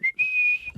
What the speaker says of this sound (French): j'haïs ça le monde qui siffle en public aussi